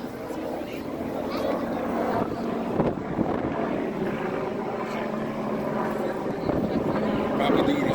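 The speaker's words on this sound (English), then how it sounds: "There's the helicopter." A helicopter flies over a fire department open house, its steady rotor drone filling the air, loud and continuous with wind buffeting the microphone while people talk nearby.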